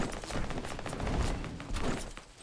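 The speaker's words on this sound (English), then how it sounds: "He's shooting at you with a P90." Rapid P90 submachine gun fire in Fortnite, a steady rattle of closely spaced shots running through the moment at moderate loudness, without talk over it.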